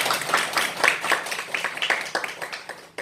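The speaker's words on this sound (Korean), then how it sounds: "우리 건나리 전사에게 박수 한번" Church congregation clapping in applause during a Sunday afternoon service, a steady wash of many hands with brief rising bursts, filling the whole stretch without voices on top.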